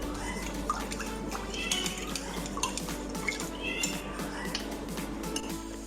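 Chili garlic sauce and spices are mixed together in a dish, with a utensil clinking and scraping lightly against it in a quick, irregular rhythm close by.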